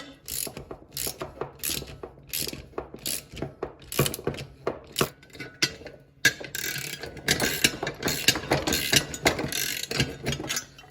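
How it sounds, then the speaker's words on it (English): A ratchet tightens a half-inch nut and bolt on a Coleman folding shovel, giving quick clicking bursts in short strokes at first, then longer continuous runs of ratcheting close to the mic. "the nut and the bolt are both 1/2 inch, so it should be pretty easy to just crank this down"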